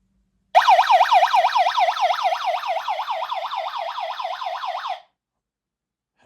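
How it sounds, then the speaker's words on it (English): A plug-in carbon monoxide detector sounds its alarm, a loud warbling electronic tone sweeping up and down rapidly for about four and a half seconds before cutting off abruptly, close by in a quiet room. "this is a carbon monoxide detector that you just plug it in"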